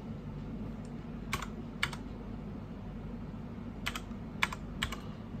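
Someone types an admin password on a computer keyboard: a few scattered, crisp key clicks in small clusters, close-up against a quiet room hum.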